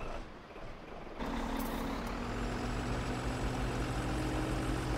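In a farming video game, a truck's air brake hisses and then steady electronic reversing beeps sound over a low idling engine drone, loud and continuous, with no talk.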